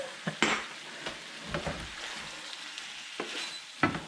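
Eggplant stir-fried in a pan, with a soft steady sizzle and scattered spatula scrapes and clicks against the metal, close and moderately quiet, no voices.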